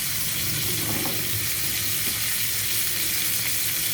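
Steaks sizzle and fry steadily in a hot pan, a dense, continuous crackle heard up close with no voices over it.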